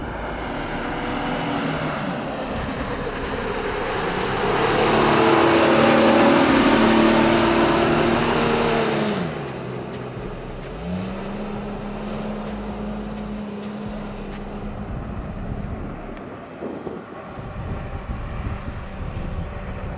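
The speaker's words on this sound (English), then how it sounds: "The 4Runner takes a good start and dynamically passes the first part of the hill." A Toyota 4Runner SUV engine strains up a steep off-road hill climb, loud and close. The revs rise and swell in the middle, then drop away and settle into a lower, steadier drone.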